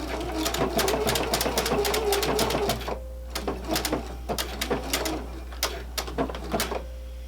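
Sewing machine hemming one end of a handwoven tea towel, rapid rattling stitch bursts that pause briefly, then resume in shorter spurts, close and clear.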